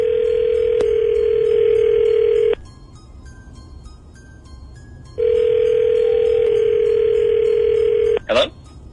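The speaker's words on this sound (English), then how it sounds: "Let me get you your dial tone." Telephone dial tone: a loud, steady hum heard up close, cut off for a few seconds and then resuming, with faint higher beeps in the gap and a brief chirp at the end.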